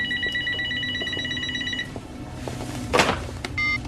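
A single indoor telephone in a big house rings in two bursts of repeated electronic trills, clear and fairly close, followed by a thump and a brief second ring near the end.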